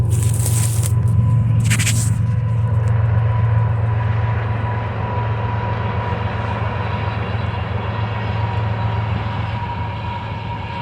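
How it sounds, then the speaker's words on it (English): A train rumbles past at close range, with a loud, steady low roar of wheels and cars that fades slightly over time, and brief hissing bursts near the start. "I got a train going by now."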